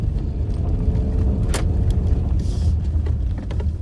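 A car in automatic drive mode, running as front-wheel drive, spins its front wheels, giving a steady low engine and tire rumble that holds constant throughout, close and moderately loud.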